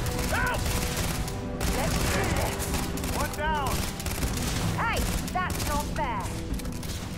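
Rapid bursts of gunfire in the video game Starfield, loud overlapping shots and fusillades in dense volleys with whistling tones, continuous throughout with voices talking over the action.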